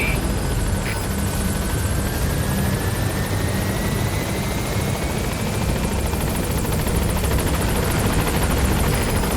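The Pequod helicopter arriving at a landing zone in Metal Gear Solid V, a loud, steady rotor and engine roar holding throughout with a faint rising whine.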